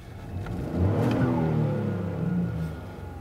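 A 2021 Ford Bronco Sport Badlands engine revs up, its pitch climbing and holding steady before easing back down, loud and close throughout.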